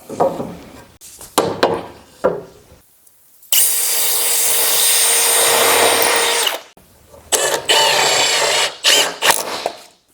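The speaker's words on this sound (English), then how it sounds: "I'm going to put about 4 screws on each side here." Power drill driving screws into a wooden frame built from an old door, one sustained whirring run of about three seconds between shorter bursts of drilling and handling knocks, loud and close.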